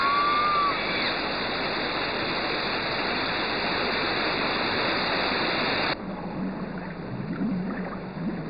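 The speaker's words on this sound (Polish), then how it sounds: "Wodospad." A waterfall roars as a dense, loud rush of falling water, unbroken for most of the stretch, then drops abruptly to a duller, quieter rumble near the end.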